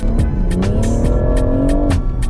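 A BMW M140i engine runs with a loud, steady drone whose pitch creeps slightly upward, then dips near the end, with brief sharp noises over it.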